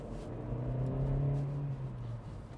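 A stock VW Polo R-Line car engine with a standard exhaust hums low and smooth, its pitch rising briefly as it accelerates, then easing off; fairly quiet and close.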